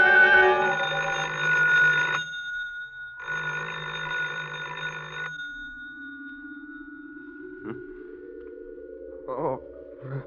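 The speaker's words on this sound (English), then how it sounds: "I thought I heard the phone." An old telephone bell rings in two long, loud bursts with a short gap between them, followed by a rising tone and a few faint tonal blips.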